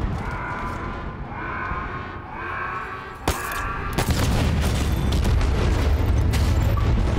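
Loud explosions and heavy gunfire from a battle in the video game Halo Infinite, with a sharp blast near three seconds followed by a sustained, dense barrage of booms and rumbling that continues without any talk.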